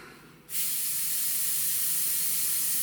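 A Gaahleri Swallowtail airbrush starts spraying paint after a half-second of quiet room tone, becoming a loud, steady, bright hiss of air that continues unbroken to the end.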